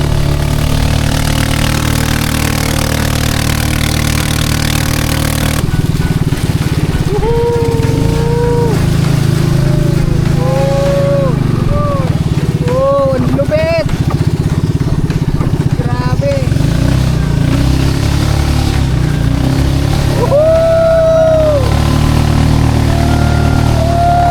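A speedboat engine drones loudly and continuously throughout a river ride on the Ulot River, with voices calling and whooping over it.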